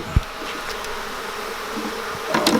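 Honeybees buzz steadily close by while a smoked hive is opened for inspection, with a few soft clicks and knocks of equipment among the continuous drone.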